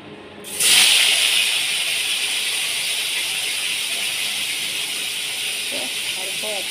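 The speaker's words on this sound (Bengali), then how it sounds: "এটা গরম হলে আমি চিংড়িগুলো ভেজে তুলে রাখবো।" Prawns drop into hot oil in a pan with a sudden loud sizzle that settles into a steady, close frying hiss, and a few faint clinks are heard near the end.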